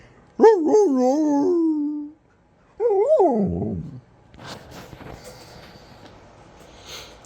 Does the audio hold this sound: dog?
yes